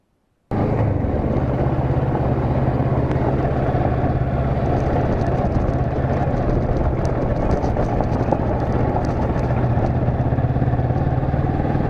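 A Kawasaki Versys motorcycle ridden off-road on a backcountry route in Washington's Olympic Peninsula: a steady, loud engine drone with low rumble that starts abruptly and runs continuously, close to the listener, with no talking.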